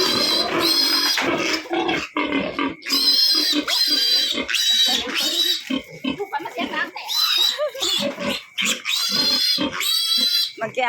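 Pigs being caught on a farm squeal loudly and repeatedly in shrill, piercing bursts close by, with grunts and people talking in between.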